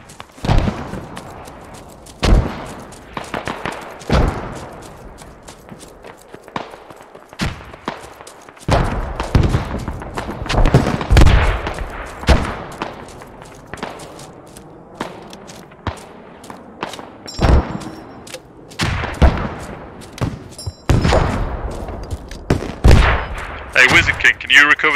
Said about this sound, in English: We might drop some artillery first.